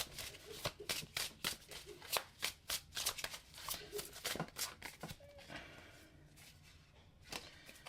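Tarot cards are shuffled in a quick series of crisp, close riffles and slaps that slow and fade toward the end.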